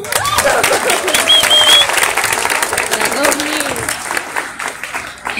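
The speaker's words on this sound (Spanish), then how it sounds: "Un aplauso." An audience at a live comedy show breaks into loud, continuous applause, clapping mixed with cheers and voices calling out over the crowd before it slowly thins.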